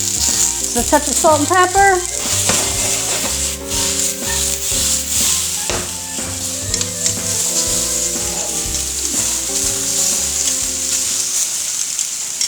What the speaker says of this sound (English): So I've got our super hot skillet here. I'm going to toss the peppers in.